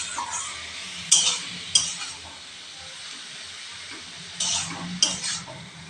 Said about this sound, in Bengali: দিয়ে খুব ভালোভাবে আনাজগুলো ভেজে নিতে হবে।